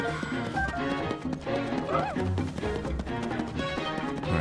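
Horse hooves clip-clop at a steady trot in the video game Zelda: Tears of the Kingdom, layered over continuous game music and ambience, moderately loud throughout.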